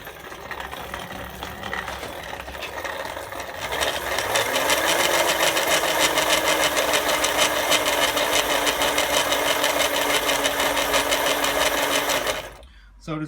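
A folding e-bike's 24-volt hub motor spins the raised wheel with the bike clamped in a vise, a steady buzzing whir that ramps up and holds loud and close before stopping abruptly near the end.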